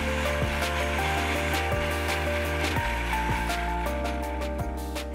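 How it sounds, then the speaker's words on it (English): A food processor pulses a blend of whole mandarins and flour, giving close grinding, rattling whirrs with short chopping beats in quick succession. "I'll just pulse it a few times just to crumble it up a bit."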